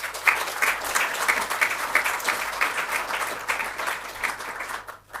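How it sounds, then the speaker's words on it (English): An audience at a book festival talk applauds, a steady wash of clapping that holds for several seconds and then thins out and fades near the end. "I think we should give them a round of applause as well."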